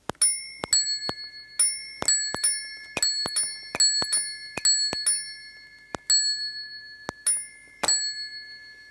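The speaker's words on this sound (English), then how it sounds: "when you put it back and forth, it goes into sort of like a tune of a doorbell" An electromagnetic two-tone doorbell chimes repeatedly in quick, irregular bursts, each ding ringing clearly and decaying in a quiet room.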